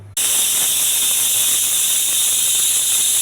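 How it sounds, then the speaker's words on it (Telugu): A pressure cooker on a lit stove releases a loud, steady rush of hissing steam that bursts out abruptly and continues without pause, close and intense. "కుక్కర్ పెట్టాను. స్టవ్ వెలిగించి 4-5 విజిల్స్ రావాలండి."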